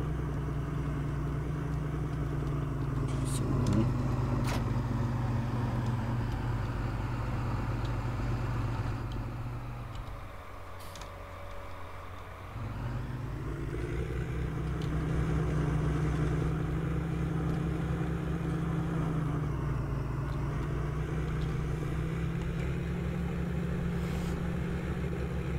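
A farm vehicle engine in the video game Landwirtschafts-Simulator 19 drones steadily while spreading fertilizer across a field, with a brief dip in pitch and level midway before it returns to a constant hum.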